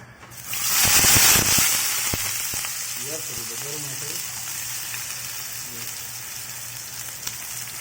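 Garlic and onion dropped into hot oil, a loud sizzle flaring up within the first second and then settling into a steady frying hiss, with faint voices talking under it.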